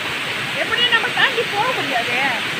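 Water rushes steadily where waves splash and break against a spot where rainwater runs, a loud continuous roar with people talking over it.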